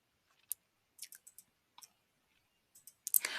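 A computer mouse clicks in Adobe Illustrator with sharp, close taps, one at first and then a quick scattered run, with quiet gaps between.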